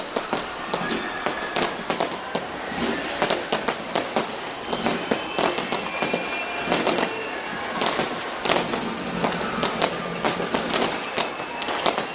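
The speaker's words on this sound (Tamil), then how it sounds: "கண்கவர் வான வேடிக்கையுடன் 2026ஆம் ஆண்டை வரவேற்று கொண்டாடிய பொதுமக்கள்" Dense New Year fireworks in New Zealand welcoming 2026, with continuous crackling bursts and sharp bangs overlapping throughout, loud and sustained with no talk.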